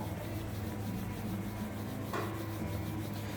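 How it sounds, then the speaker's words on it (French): A renovation-kit wipe is scrubbed hard across a Mercedes headlight in a garage, a close, continuous rubbing hiss over a low hum of the space. "Je la passe sur le phare et je frotte énergiquement."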